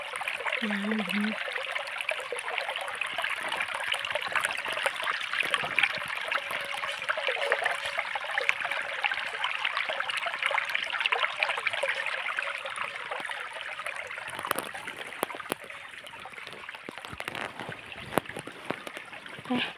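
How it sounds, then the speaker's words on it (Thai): Continuous rushing, babbling stream water beside cattle grazing land, loud and close, with a steady bright splashing texture throughout and no talking. "ฟังเสียงน้ำไหลก่อนพี่น้อง"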